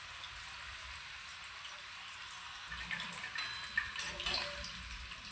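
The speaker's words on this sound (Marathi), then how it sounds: "छान अशा तळल्या जात आहेत बघा चिप्स" Homemade potato chips, thin separated slices, frying in hot oil, giving a steady broadband sizzle and bubbling hiss that grows busier and more crackly toward the end, heard alone without any voices.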